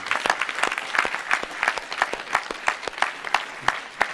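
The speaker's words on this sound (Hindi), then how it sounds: "आनंद के लिए तो जोरदार ताली बजावे।" Audience clapping together at a Vedic yajna gathering, a brisk fairly even rhythm of sharp claps with a light crowd murmur under it, lasting a few seconds.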